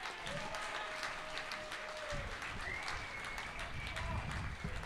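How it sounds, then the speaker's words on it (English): Crowd applause at a Canberra Cavalry baseball game after a first-pitch strike, a steady wash of clapping and cheering heard from a distance, running through the whole stretch beneath a commentator's voice. "Lamond gets a big round of applause for the first pitch strike"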